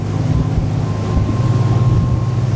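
A Fjord 39XL motorboat's inboard engines roar loud and steady at about 3,000 revs during a turn at over 30, with wind buffeting the microphone and water rushing underneath.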